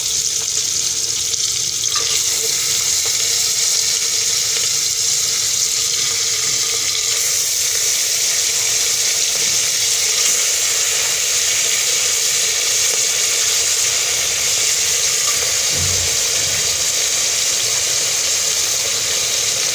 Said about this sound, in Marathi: आता ह्याच्यामध्ये मटण टाकून घ्यायचं